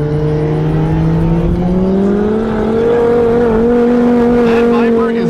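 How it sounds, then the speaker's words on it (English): A Dodge Viper drag racing car roars at full power on a drag strip, a loud, steady engine drone rising slightly in pitch as it pulls away, with no break in the noise. "That Viper is about an eighth of a mile down the track before you even hear him hit the booster full power"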